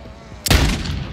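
A single loud gunshot blast from a Call of Duty MW3 match, hitting sharply after a low rumbling game backdrop and ringing out with a sustained tail.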